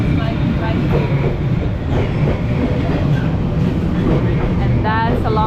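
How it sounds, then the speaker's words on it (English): A very long train rolls steadily past at close range in Hanoi, its dense low rumble and wheel clatter continuous throughout, with faint voices mixed in and a brief squeal near the end. "That's a very long train."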